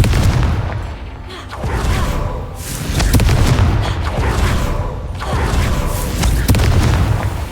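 Repeated heavy booms from a Confringo fire spell in a Harry Potter video game, several deep rumbling blasts rolling into one another, loud and close.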